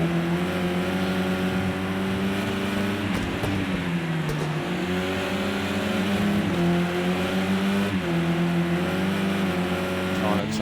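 Mercedes touring race cars lapping Knockhill in a BTCC race, engines droning loud and steady throughout with rising and falling harmonic tones as they rev and shift, a commentator talking over the noise.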